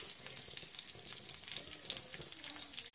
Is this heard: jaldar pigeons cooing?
no